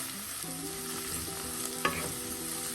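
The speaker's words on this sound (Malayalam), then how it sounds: "ഈ സമയം നമുക്ക് അരിഞ്ഞു വെച്ചിരിക്കുന്ന ചിപ്പിക്കൂൺ ചേർക്കാം" Chopped oyster mushrooms fry with onions in a pan, a steady near sizzle under repeated spoon-scraping strokes and one sharp clack of the utensil against the pan. No speech.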